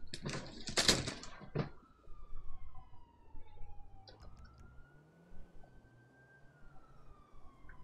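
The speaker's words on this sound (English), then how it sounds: "I can hear the siren." Police siren in a driving video game, a faint steady wailing tone rising and falling in the background after a brief burst of louder noise at the start.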